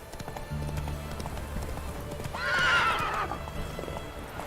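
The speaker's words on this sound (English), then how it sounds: "Whoa there, Roach." A horse in The Witcher 3 video game, Roach, trots with soft hoof clops under a low droning game ambience, then gives one loud, clear neigh in the middle before the steps continue.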